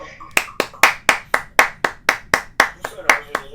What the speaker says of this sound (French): j'essaie de lancer un applaudissement